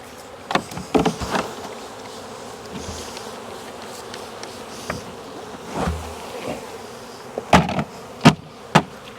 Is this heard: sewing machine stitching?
no